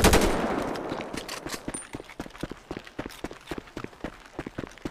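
Rapid video game gunfire in a GTA roleplay session as a character falls, starting with a loud burst and continuing as a fast, steady string of sharp shots.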